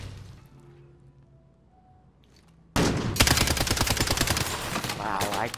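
Video game gunfire starts abruptly after a quiet stretch with low background tones, then loud, close automatic fire rattles in rapid bursts until the end.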